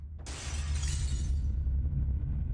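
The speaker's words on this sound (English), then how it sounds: "There was a glass breaking sound then" Glass shatters in the horror video game Fatal Frame 4 as one sharp, loud crash, followed by a rumbling tail that fades slowly.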